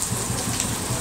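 Steady, dense rain hisses and patters without a break at a Penang street food stall, with nothing else standing out over it.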